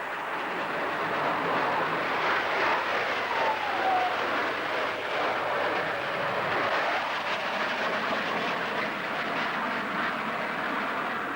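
A Lockheed Starfighter jet flying at a 1980s UK airshow gives a steady, loud, broadband roar that sustains throughout with a faint whine sweeping across it, heard alone without voices.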